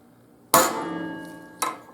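A hammer strikes a center punch into steel for a dirt bike E-track wheel chock build, two sharp metallic blows about a second apart, each ringing out and slowly decaying, loud and close with no talk.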